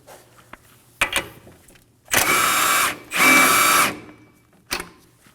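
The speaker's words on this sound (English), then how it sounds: "we're gonna remove the link from the strut, and for that, we're gonna be using a 19mm socket" An impact gun with a 19mm socket loosening the strut link nut on a 2016-2020 Kia Sorento front suspension, heard as two loud, close whirring bursts of about a second each, set between sharp clicks and handling knocks.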